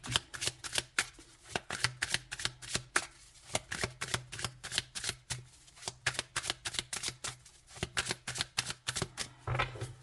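Oracle cards being shuffled by hand for a tarot-style reading, a steady run of crisp, rapid riffling flutters close up, repeating in quick bursts for the whole stretch with no talk.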